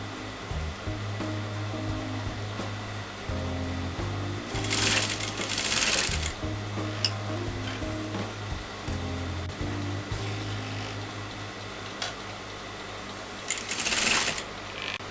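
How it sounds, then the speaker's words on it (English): A sewing machine stitches piping onto a kurta neckline in steady, close-up running bursts with brief pauses and a couple of louder rattling passages, with no speech. "and I'm going to sew that together."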